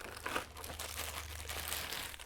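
Thin plastic bags crinkle and rustle steadily at close range as Garmin Vector 3 bike pedals are pulled out of them during an unboxing, with no voices.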